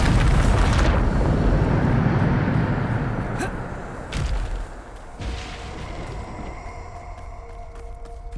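A Bombarda blast spell in the game Hogwarts Legacy goes off as a loud, booming explosion that decays into a long rumbling tail, with a few sharper impacts following.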